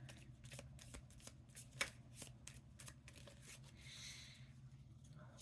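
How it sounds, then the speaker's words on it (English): A deck of cards being shuffled close up, with repeated riffling and soft papery flicks at a quiet level over faint background hum, ending in a brief rustle. "One more shuffle."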